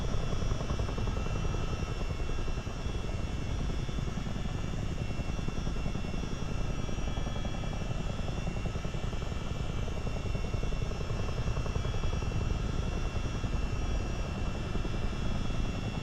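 A CH-47D Chinook helicopter drones steadily in a flight simulator game, its rotors and engines making a constant, dense whir that holds at an even level throughout, with no talking.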